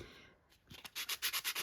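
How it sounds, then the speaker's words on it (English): Light hand sanding of a wooden peg coated in matte, chalky PaperArtsy paint, heard close up as a quick run of soft, rhythmic rasping strokes that starts after a brief pause. "just a really light sanding of that"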